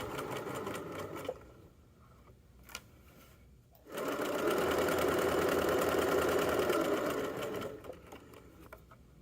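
Domestic sewing machine stitching the side seams of pajama pants, a steady fast whir that starts and stops in short runs, then a long continuous burst of stitching before slowing to a halt.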